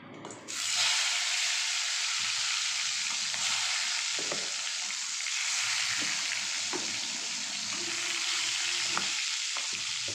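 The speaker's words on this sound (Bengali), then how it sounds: "তেলটা গরম হয়ে গেছে, অল্প অল্প বেগুন দিয়ে ভাজা করে তুলে নেব।" Eggplant pieces drop into hot mustard oil and burst into a loud, steady sizzle, with occasional clinks of a utensil turning them.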